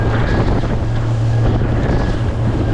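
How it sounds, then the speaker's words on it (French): Strong wind roars steadily against the microphone at sea, with a low droning hum and sea noise underneath, no voices; a small boat heads into wind, current and waves. "le vent ne se sera pas calmé une seule seconde"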